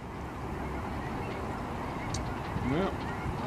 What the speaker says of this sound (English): So it sounds like the birds are already taking off.